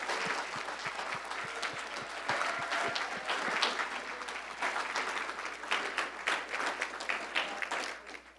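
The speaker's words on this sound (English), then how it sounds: "let's give them a round of applause real quick" A room full of people at a university hall of fame ceremony applauds, steady dense clapping that holds for several seconds before starting to thin out.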